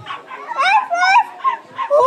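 A string of high, whiny puppy whimpers and small yips, rising and falling in short bursts, close and fairly loud.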